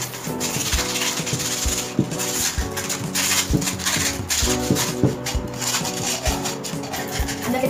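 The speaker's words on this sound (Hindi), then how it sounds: "तो हम इस पॉट को जरा पॉलिश कर लेते हैं। चलो मैं पॉलिश कर लूं।" A clay pot being polished by hand, a steady scratchy rubbing that goes on for the whole stretch in repeated back-and-forth strokes, close and fairly loud, with no talking.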